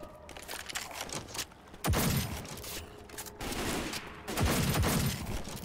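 Gunfire from the video game Left 4 Dead 2: sharp gunshot cracks and bursts of shots fired into the air over a dense, busy game soundscape, loud and close.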